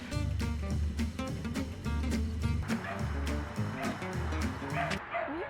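Several puppies yip and bark in quick, overlapping bursts, with high whimpers mixed in, close by and continuous.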